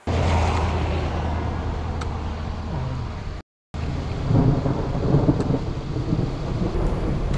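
A thunderstorm on an Oklahoma squall line brings heavy rain and low rumbling thunder, a steady loud wash of rain with swelling rumbles, briefly cut to silence midway, with no voices.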